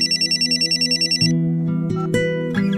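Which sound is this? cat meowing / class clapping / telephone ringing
telephone ringing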